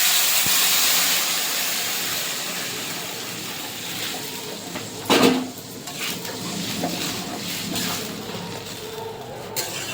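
Warm water poured into a pot of fried pulao rice sets off a loud, steady steaming hiss that slowly fades, broken by a brief clatter of the pot midway.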